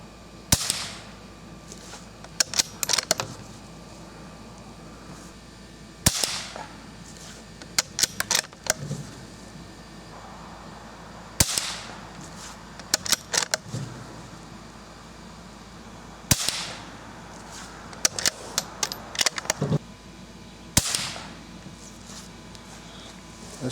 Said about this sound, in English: I loaded up 5 more rounds, and I'm gonna shoot at that same target